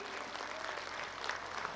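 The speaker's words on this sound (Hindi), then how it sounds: "एक बार ज़ोरदार तालियां हमारे आज के मुख्य अतिथियों के लिए" School annual day audience clapping for the chief guests, a faint but continuous patter of many hands heard from a distance, steady throughout the short stretch.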